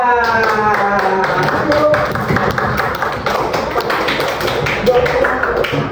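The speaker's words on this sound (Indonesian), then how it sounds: "Tepuk tangan buat Kaza" Primary-school pupils in a classroom clap for a classmate, a fast, dense patter of hands close by, with a voice and other voices audible over the clapping throughout.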